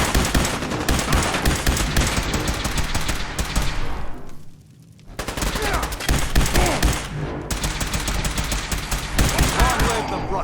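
Sustained heavy automatic gunfire and bursts of shots in the video game Fallout 4, loud and dense throughout, with a brief lull midway before the firing resumes.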